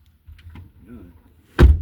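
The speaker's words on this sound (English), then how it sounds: "The wind caught the door." A car door caught by the wind slams once, loud and close, on a windy Colorado trail outing. Gusting wind rumbles beforehand and a voice murmurs faintly.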